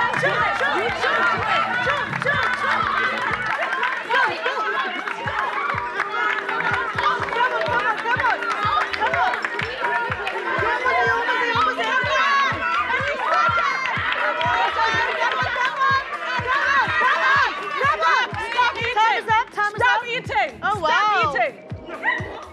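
An excited group cheers on contestants in an eating challenge, with loud overlapping shouts and chatter over fast rhythmic thumping of stamping or clapping that continues throughout.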